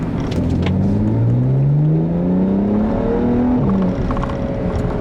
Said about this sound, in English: The engine just makes the most appropriate straight 6 noises.